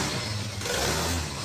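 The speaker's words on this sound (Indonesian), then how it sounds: "Oke, ini sudah nyala, kita coba geber-geber gasnya ya." Motorcycle engine revved repeatedly, with a rough whine from the driveshaft (gardan), steady and close throughout without talk.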